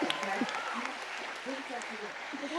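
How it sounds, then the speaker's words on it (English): Graduation-ceremony audience at the Duke Ellington School of the Arts applauding the 2025 graduates, a steady wash of clapping and cheering with voices calling out over it throughout. "Can we give them a round of applause?"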